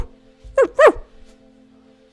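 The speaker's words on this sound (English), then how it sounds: "A dog immediately comes up to his knees," Dog giving two quick, close barks in a row, loud against a quiet background with a low steady hum.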